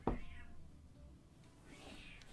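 A pet cat meows at close range, one sharp call at the start and a softer one near the end, with quiet room noise between.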